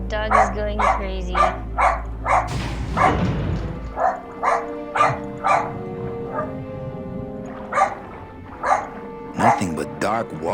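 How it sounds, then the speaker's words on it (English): Dog barking frantically in the video game Grim Fandango, a rapid string of sharp yips and barks repeating over a tonal music bed, with a low rumble early on and a spoken voice partway through. "The dog is going crazy."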